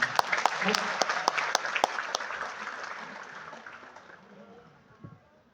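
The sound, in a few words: audience applause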